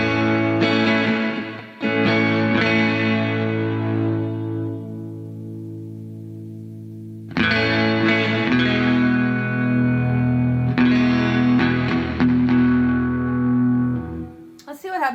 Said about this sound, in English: let's try a little less distortion on the dark channel